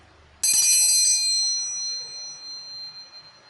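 One bright metallic bell strike rings out sharply, then its clear tone lingers and slowly fades over a few seconds in an otherwise quiet space.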